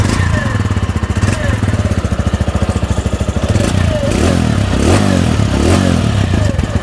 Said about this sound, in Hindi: टीवीएस रेडियन का साउंड भी आपको सुना देता हूँ। टीवीएस रेडियन का साउंड काफ़ी बेसी निकलता है, मतलब हैवी साउंड है।